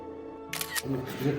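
A single camera shutter snap outdoors at a Seoul Station area outing, a quick mechanical double click with people talking over it.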